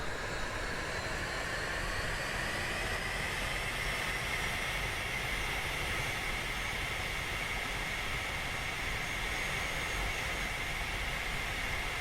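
An L-39ZA jet idles and taxis in a flight simulator, a steady unbroken engine whine and rushing hiss held at even loudness throughout.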